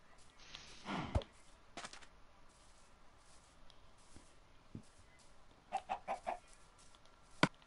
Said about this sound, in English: like these cute little chickens.